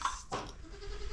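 A farm goat gives a single short bleat, close and clear, against quiet background noise.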